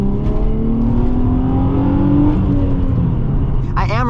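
A Nissan Z drifts at the Tokyo Auto Salon 2022 showcase, with a loud engine roar and a rising whine over constant tire noise, and a brief sharp squeal near the end.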